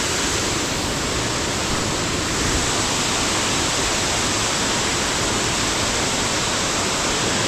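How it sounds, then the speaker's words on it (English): A huge waterfall you can walk right under, heard as a loud, steady roar of falling water that fills the whole clip without a break. "Such a huge waterfall that you can just walk right under like that."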